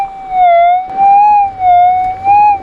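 A metal detector's steady electronic target tone over a river gold-nugget hunt warbles slowly up and down in pitch, loud and continuous, with a faint low hum underneath and no voices.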